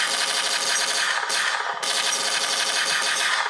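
A pistol fires in the iOS game Smash Dude as a loud, dense stream of rapid shots that continues almost unbroken, with only a brief dip partway through.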